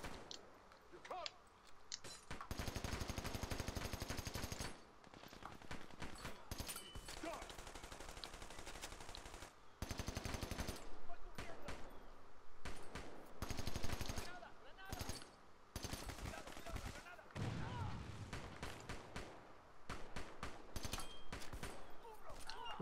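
Machine gun fire from the video game Army of Two: The Devil's Cartel, loud bursts of rapid shots in long stretches and shorter volleys, with a voice talking now and then in between.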